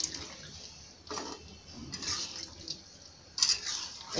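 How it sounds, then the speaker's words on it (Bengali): Water poured bit by bit into a cooking pan of prawn and jackfruit curry, with faint splashing and sizzling bursts in short spurts against quiet background. "একটু অল্প অল্প করে জল ঢেলে দিলাম"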